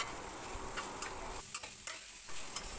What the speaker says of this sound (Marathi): मस्त असा फणसाची भाजी आता फ्राय करायची आहे